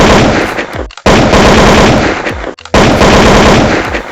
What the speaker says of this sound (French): pendant que dehors, des coups de feu déchirent la nuit